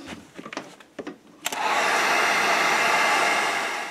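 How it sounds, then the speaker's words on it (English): Heat gun setting paint on a holographic jerk bait lure: a few soft handling knocks, then a click and a loud, steady blowing whoosh that carries on close by to the end. "I'm going to heat set that and then take a look if I want to put more on or not."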